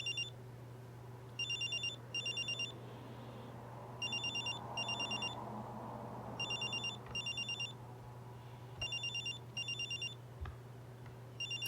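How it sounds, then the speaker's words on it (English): A telephone rings repeatedly in short double bursts of electronic trilling, evenly spaced over a steady low hum, with no voices. "why does this phone not stop ringing?"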